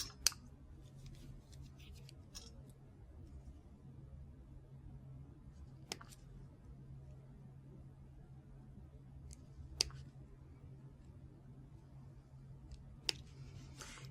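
Wire cutters snipping craft wire while a ring is being made, a few sharp isolated clicks spaced several seconds apart over a quiet, low hum.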